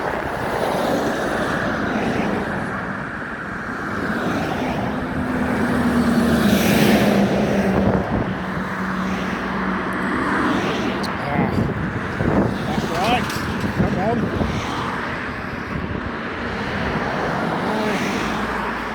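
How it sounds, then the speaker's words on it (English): Trucks driving past on a road, their heavy low rumble swelling and fading over several seconds, with a brief tonal whine and traffic noise, under a voice. "I have to be quiet for a moment while these trucks go past."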